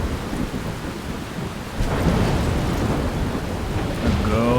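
A thunderstorm with heavy downpour in the video game Life is Strange: steady rain hisses on surfaces while deep thunder rumbles and swells partway through, with a faint tonal sweep near the end.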